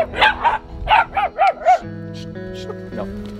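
Several sharp dog barks in quick succession, fairly close, followed by a sustained tonal hum with a few faint yips.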